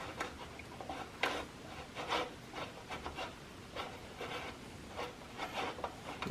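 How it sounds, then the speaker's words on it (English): An Allen bolt is worked loose from the bench of an old Sears Roebuck scroll saw. Faint rubbing and scraping comes in short repeated strokes with small wooden clicks, and nobody speaks. "So we'll go ahead and get this bolt out."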